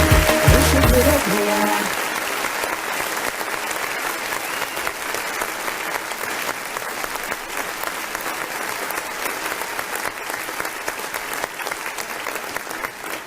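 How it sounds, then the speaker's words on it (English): A sustained round of applause from a crowd, steady dense clapping that keeps going at an even level, with a brief burst of music at the start. "round of applause indeed"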